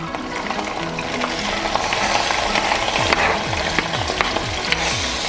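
Oil popping and spitting in a pot with chunky garlic paste while cooking Jamaican callaloo, a busy sizzle scattered with sharp pops and stirring clatter, close and loud.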